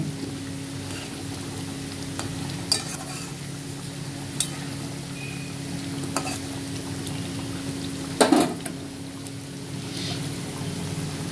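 Hilsa fish pieces frying in hot oil for ilish tel jhal, a steady bubbling sizzle throughout with a few brief clinks and a louder knock near the end, no talking.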